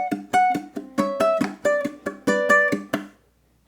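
A ukulele strums the first measure of a Motown song in a quick rhythmic pattern of about a dozen bright, clear strums that change chords, then stops and rings out into a moment of silence.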